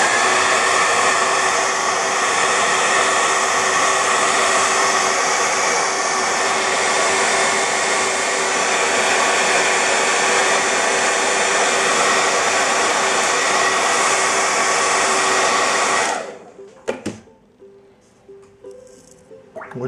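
A hair dryer blows steadily on watercolor paint while a comic book character is being colored, a loud continuous whir lasting about sixteen seconds before it is switched off, followed by faint handling noises.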